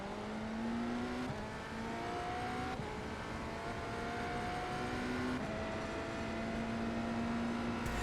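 Race car engine in a sim racing game revving steadily and loudly throughout, with rising and falling pitch as it climbs through gears, sustained without pause and no talking over it.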